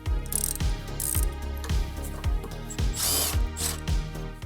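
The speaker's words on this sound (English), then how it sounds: "Ratcheting wrench makes it easier." Ratcheting wrench turning 14mm motor mount bolts on a Honda Civic, a series of close, crisp clicking ratchet strokes in a quick irregular rhythm, alone with no talk.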